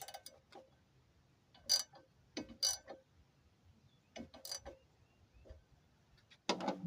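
Bolts on a hi-lift jack mount being tightened, giving a few short, sharp metallic ratcheting bursts spaced by quiet pauses, fairly close and with no talk over them.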